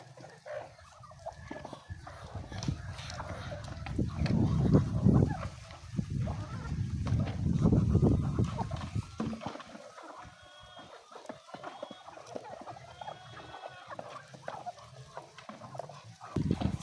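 Local chickens peck and feed on maize bran with a busy mix of clucks and low calls, swelling to a louder cluster of fowl noise in the middle before tapering to scattered clucks and pecking.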